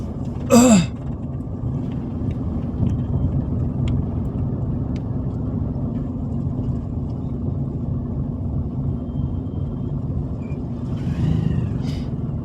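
A car pulling away in second gear through a narrow lane during a driving lesson, its engine a steady low rumble throughout, with a brief higher whine near the start and a faint squeak near the end.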